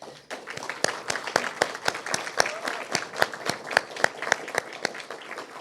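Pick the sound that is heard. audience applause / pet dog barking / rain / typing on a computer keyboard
audience applause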